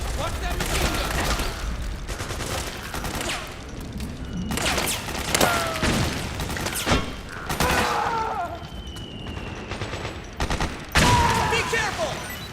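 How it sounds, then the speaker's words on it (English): Machine gun fire in Metal Gear Solid 4 crackles in repeated bursts over a busy battle mix, loud and close, with speech heard alongside it. "Watch that machine gun!"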